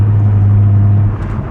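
A BMW 340i with the B58 engine and M Performance exhaust in Sport mode gives a brief, loud, deep droning rumble close by that eases off near the end.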